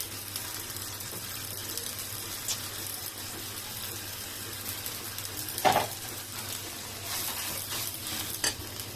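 Garlic paste sizzles in a frying pan while a shrimp and taro leaf curry is cooked, a steady crackling hiss with a few louder scrapes of stirring partway through.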